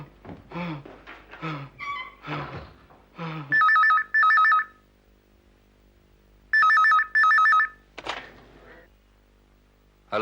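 A telephone rings in two pairs of loud electronic trilling bursts, separated by a pause, with people talking before and between the rings.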